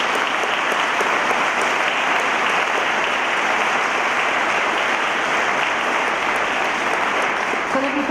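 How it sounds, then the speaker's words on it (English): An audience at the XEOS grand opening ceremony claps in a dense, even roar of applause that holds steady throughout without fading. "I would like to have a round of applause for all those who work for this very impressive success"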